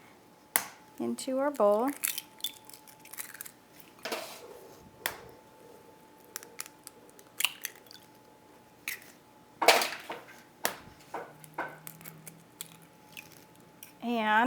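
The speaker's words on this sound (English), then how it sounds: "So I have 4 eggs that I'm gonna crack" Four eggs being cracked into a bowl in a home kitchen while making a Southern pecan pie, several sharp isolated taps and cracks spaced across the clip, close and clear between bits of someone talking.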